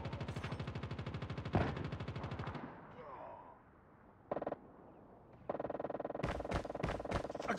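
Call of Duty Mobile gunfire, loud rapid bursts of automatic fire broken by a short quiet gap and a brief burst, then more sustained rattling shots, with faint voices mixed in.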